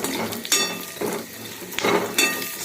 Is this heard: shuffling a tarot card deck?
no